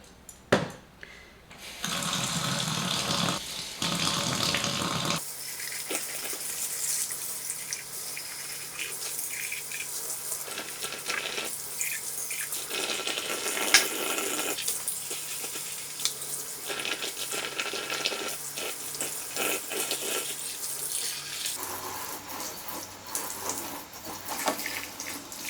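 Tap water runs steadily into a sink while a butter keeper is rinsed, a close and continuous splashing stream whose tone shifts as the dish moves under the flow.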